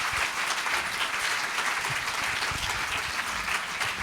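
A seated audience claps steadily for two guest speakers at a literary conversation event, a dense, even wash of applause from a full room with no voices on top.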